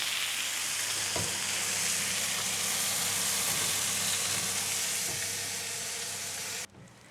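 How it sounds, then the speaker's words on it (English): Cheeseburgers topped with cheese sizzle steadily under a hot grill, a loud, continuous close hiss and crackle that holds for several seconds before cutting out abruptly near the end. "stick this under the grill for a few seconds so that the cheese can get beautiful and all melty and gooey"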